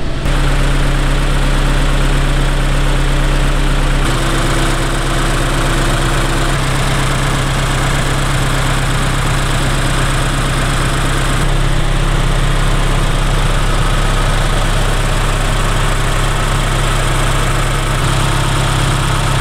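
A Subaru BRZ fitted with an HKS turbo kit idles loudly and steadily, a close, constant engine drone with a low hum and small shifts in pitch partway through, with no talking.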